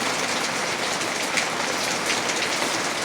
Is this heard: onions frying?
no